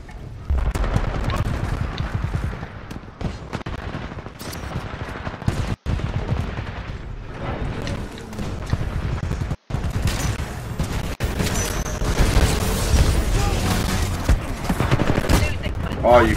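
Smart pistol gunfire in Titanfall 2 rattles in dense, continuous bursts amid booming explosions and heavy game combat noise, loud and close throughout with two brief dropouts.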